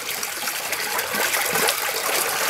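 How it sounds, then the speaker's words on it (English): Water gushing and trickling through a garden siphon started by pouring in a cup of water, a steady, close, continuous splashing flow. "If I take that and I pour that into here, right? Watch this, folks. This siphon is going to go off."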